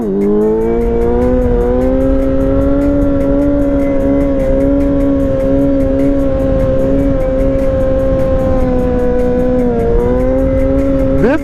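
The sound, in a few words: Yamaha YZF-R6 motorcycle engine revving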